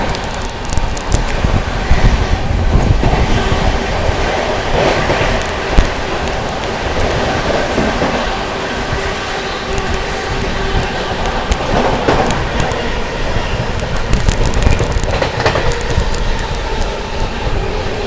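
A Humsafar Express on the Prayagraj–Anand Vihar run speeds through Aligarh Junction without stopping, giving a loud, continuous rushing roar of rail and carriages with gusty wind noise that holds steady throughout.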